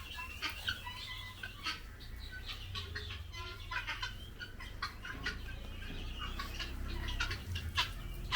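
Guinea fowl on a farm give repeated sharp, high clucking calls in rapid bursts throughout, fairly close, with a steady low background rumble and a brief flutter of wings.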